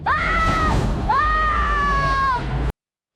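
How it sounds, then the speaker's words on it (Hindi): A boy in a horror story screams in fear, two long, loud, strained cries close to the listener. The second rises and holds before the sound cuts off abruptly into silence. "वो जोर जोर से चिल्लाया, मम्मी!"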